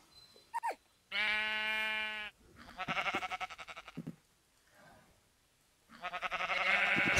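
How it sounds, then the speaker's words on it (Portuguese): Bleating sheep in a video game, several distinct harmonic bleats in a row, some short and some drawn out, close and fairly loud with brief gaps between them. "Sai daqui, ovelha maldita."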